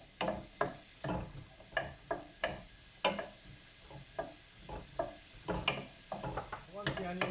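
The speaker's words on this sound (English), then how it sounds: "You're going to be cooking the onions for about 2 to 3 minutes" Red onions cooking on their own in a pan, with a low sizzle under repeated close, rhythmic stirring scrapes and knocks of a utensil against the pan.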